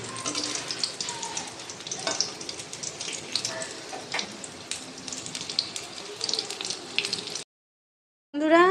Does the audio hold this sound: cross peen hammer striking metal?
no